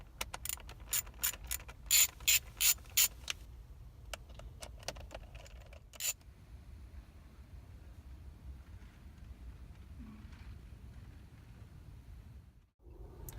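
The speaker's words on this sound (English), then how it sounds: "the last step with this wheel is to take these 4 T15 screws out" Torx T15 screws being backed out of a Grant Revolution airbag steering wheel by hand, giving a quick run of sharp ratchet clicks and small metallic ticks early on, then quieter handling over a low background hum.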